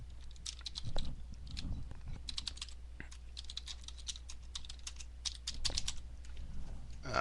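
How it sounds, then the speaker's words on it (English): Typing on a computer keyboard, with rapid clusters of close, crisp key clicks arriving in irregular bursts and short pauses throughout, clear and alone without talk. "let's type a random sentence"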